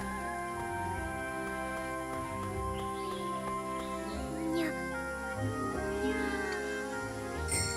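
A cat meows a few times in the video game Monochrome Mobius. The meows are fairly soft, set over a steady game music backdrop, and people talk nearby.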